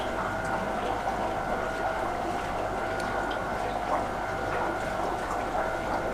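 Water pours steadily from a pipe outlet into a tank sump, making a continuous splashing wash with a constant hum beneath it and no pauses.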